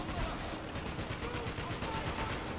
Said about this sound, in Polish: Z działka maszynowego.